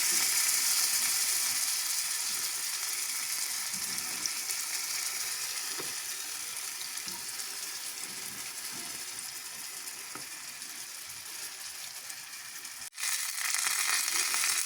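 Small Ukrainian pies fry in hot oil, a loud, continuous close-up sizzle and crackle that eases slightly, then gives a brief clunk before resuming at full strength; no talking.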